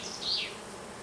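Honeybees buzz at an open hive during an artificial swarm split, one bee droning briefly close by over a faint background hum, with no talking.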